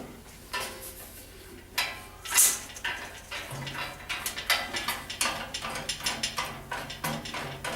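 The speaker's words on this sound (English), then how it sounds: "We want to lower our tension a little bit here." A Grizzly bandsaw's blade tension knob is turned down, giving a quiet series of ratcheting clicks and small metallic clunks that grow into a steady rhythmic clatter near the end.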